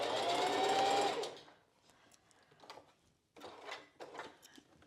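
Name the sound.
sewing machine stitching across the bridge section of a strapless bra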